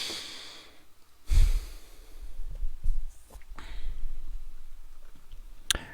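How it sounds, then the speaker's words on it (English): Deep breath drawn in and let out during a guided meditation, a loud inhale burst followed by slower, softer breathing and a brief sharp sound near the end, no talking. "Deep breath in and out"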